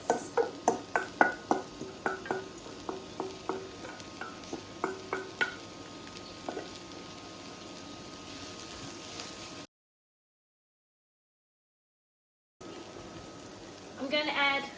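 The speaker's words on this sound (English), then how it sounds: "I've got a pan on the heat with some oil in it, and I'm going to fry down the onion and fennel until it softens." Onion and fennel sizzle softly in oil in a pan as a utensil stirs them. Light scraping taps sound near the start, and the frying continues faintly until a brief gap, then resumes.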